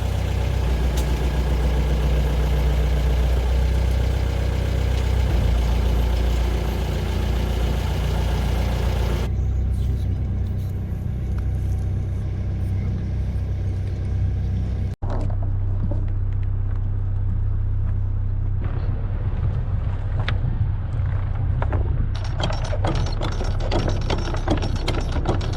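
A boat's engine idles steadily at a marina while it is shifted between forward and reverse, its low rumble changing character several times as the gears engage. No voices are heard.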